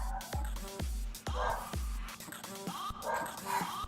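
A dog barks repeatedly, with sharp yaps and whiny yips coming in quick bursts, a cluster of loud barks early on and then irregular ones, heard muffled from another room.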